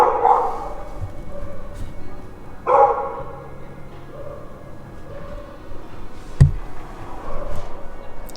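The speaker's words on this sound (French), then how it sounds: "Méchant chien." A dog barks a few times outdoors at a border crossing, sharp separate barks spread across several seconds over a faint background rumble, with no talk.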